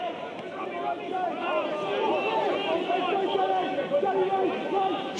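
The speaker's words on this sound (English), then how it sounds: "Crowd getting more involved in the match now." Crowd at a Gaelic football match between Galway and Roscommon in a stadium, a steady murmur and roar of many voices filling the background under clear commentary.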